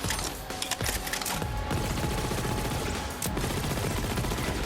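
SMG gunfire from Borderlands 3 rattles in rapid, dense bursts nearly nonstop, loud and close, with a brief pause partway through.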